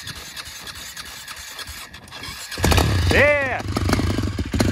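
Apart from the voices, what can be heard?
ATV engine starting and revving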